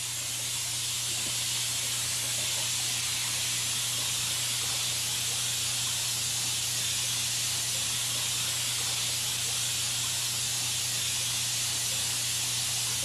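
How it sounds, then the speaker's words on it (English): Vintage spray gun spraying deionized water in a constant, even hiss with a steady low hum underneath, unbroken and moderately quiet for the whole stretch, with no voices. "Nice vintage spray gun there, Dan."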